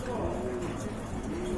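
Pigeons at a pigeon seller's place coo in low, throaty murmurs, the soft calls running steadily through the short stretch at close range.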